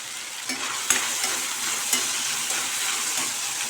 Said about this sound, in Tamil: ஒரு 2 தக்காளி அதையும் சேர்த்து நல்லா வதக்கி விட்டுக்கலாம்.